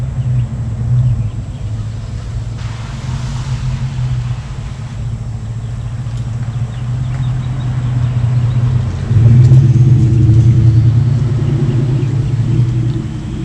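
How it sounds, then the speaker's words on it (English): A truck rumbles past on a road near a front porch, its engine growing louder and heavier toward the end as it draws close, with no talking over it. "Had to let another truck pass by."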